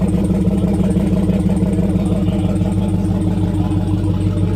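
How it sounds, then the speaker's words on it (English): A Volvo Penta marine engine on a boat at a boat show grumbles close up, loud and continuous with a rough, pulsing low rumble, and no voices. "You can really hear the Volvo Pinto grumbling."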